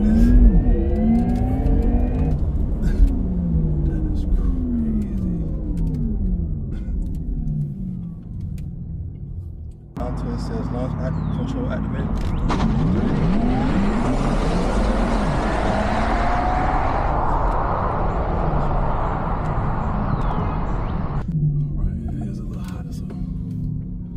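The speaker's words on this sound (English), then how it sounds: "you hold the pedal all the way down until it says launch, control activated" A Porsche Taycan Turbo electric car launches from a standstill under launch control, its motors whining and rising in pitch through a loud, continuous surge of acceleration, with rushing road and wind noise building up around it.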